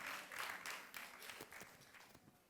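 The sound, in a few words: audience applause at a conference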